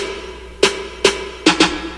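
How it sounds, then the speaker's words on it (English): Four sharp mini snare hits land in a music track, the first two spaced apart and the last two in quick succession, each a crisp bright crack over a low sustained musical bed. "We also have these little like kind of mini snares."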